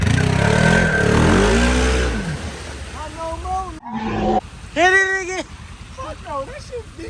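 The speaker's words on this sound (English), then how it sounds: "it sounds like you're running on one cylinder" An ATV engine running on only one cylinder revs roughly and loudly for about two seconds at an off-road ATV park, then gives way to close, excited shouting and talk.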